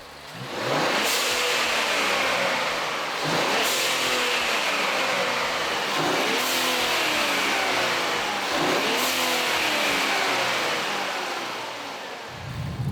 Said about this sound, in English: let's take the new Nissan Z for a drive with the Turbosmart blow-off valves